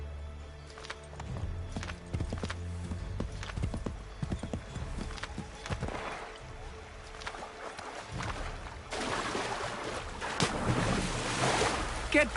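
Horse hooves clip-clopping in a video game, irregular hoof strikes over low rumbling and a rushing wash of ambient noise like waves that swells toward the end, with no talk.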